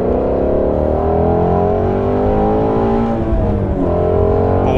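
Ford Shelby GT350 engine drones steadily and loudly while driving, with rising and falling harmonic tones as revs shift between gears through a turn, continuous close in-cabin engine sound throughout.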